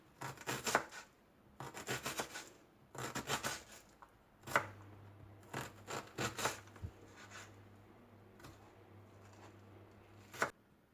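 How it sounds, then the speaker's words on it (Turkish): Onions chopped finely with a knife, heard as several quick bursts of rapid tapping and slicing, separated by short pauses and followed by a few isolated knocks, close and crisp. "Küçük küçük ince ince soğanlar doğranıyor."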